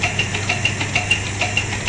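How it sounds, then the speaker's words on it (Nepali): A John Deere tractor engine runs steadily at a well pump, a continuous low mechanical drone with a faint regular knocking pulse throughout, close and alone with no voices. "ट्र्याक्टरको इन्जिन यतिकै मात्रै घुम्छ"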